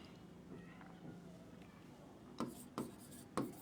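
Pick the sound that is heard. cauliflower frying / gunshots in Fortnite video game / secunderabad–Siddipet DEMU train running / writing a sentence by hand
writing a sentence by hand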